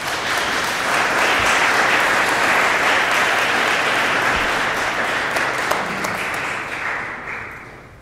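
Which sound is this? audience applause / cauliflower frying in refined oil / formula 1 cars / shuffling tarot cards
audience applause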